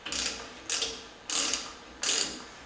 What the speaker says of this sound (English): I'm going to torque it till it's tight